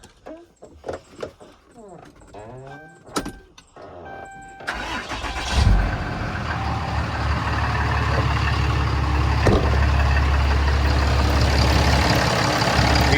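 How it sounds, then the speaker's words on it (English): A 2011 Ram 5500 diesel truck with its EGR and DPF removed cranks over and fires up, then settles into a loud, steady, rumbling idle that continues to the end. "I'm gonna go ahead and fire it up and let you hear how it sounds"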